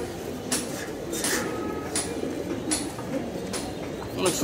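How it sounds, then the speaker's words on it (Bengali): Pigeons at a pigeon farm coo softly in a low, continuous murmur, broken by brief sharp rustles, with a person talking nearby. "এখানে লাইনের কবুতর দেখেন, অসাধারণ সুন্দর চোখের কবুতর।"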